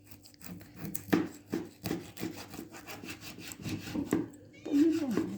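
A knife saws back and forth through home-smoked mackerel, giving repeated close rasping strokes with short pauses between them and no talk over it.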